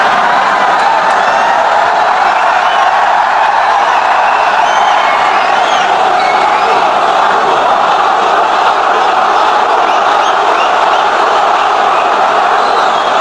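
A large crowd at a speech by Modi claps and cheers in a continuous, dense roar that holds steady and loud for the whole stretch.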